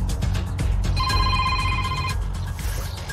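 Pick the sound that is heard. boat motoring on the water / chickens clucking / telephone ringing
telephone ringing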